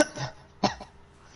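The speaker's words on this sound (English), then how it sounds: "Apart from you coughing up, which is scaring the death out of me" A man coughs twice, a short rough cough followed by a sharper second burst, close to the microphone in a quiet room.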